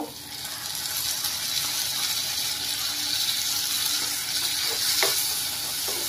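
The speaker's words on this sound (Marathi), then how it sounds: "हा टोमॅटो सुद्धा आपण इथे व्यवस्थित परतून घेऊया." Tomato being sautéed with softened onion in a pan for paneer bhurji, giving a steady, even sizzle throughout with faint stirring scrapes and a brief clink near the end, with no talking.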